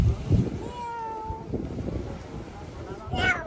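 A cat meows a couple of times, with a higher rising meow near the end, mixed with nearby voices and some wind rumble at a beach.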